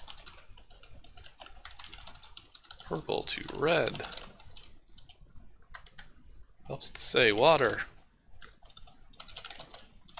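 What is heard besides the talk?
typing on a computer keyboard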